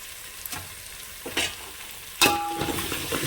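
Curry leaves and green chilies dropped into hot oil, a few brief spatters before a sudden loud crackling sizzle erupts and keeps hissing steadily, close and alone.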